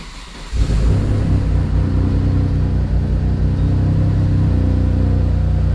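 A rebuilt twin-turbo Mitsubishi 3000GT engine cranks and fires at about half a second, then settles into a loud, steady, rumbling run close by, with no talk over it.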